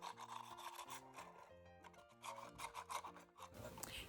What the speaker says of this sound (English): So I'm just sanding underneath on the frame itself to prepare it for my glue.